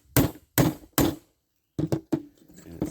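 A broken Phillips screwdriver taps a part into a Ryobi P516 during reassembly, giving three sharp, close knocks, a pause, then a quicker run of lighter taps.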